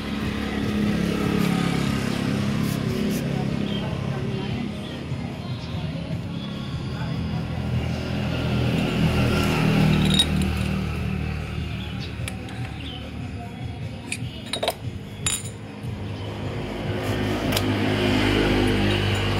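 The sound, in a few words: Yamaha F1ZR motorcycle engine running with bad spark plug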